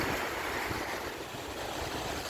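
Waves washing onto a shell-strewn beach at Sterling State Park in Monroe, Michigan, a steady broadband roar of surf mixed with wind buffeting the microphone, continuous and fairly loud with no voices.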